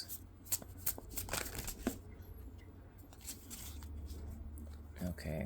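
Tarot cards being shuffled give quick papery riffles and soft slaps in short bursts, close and fairly quiet, with a person talking softly in between.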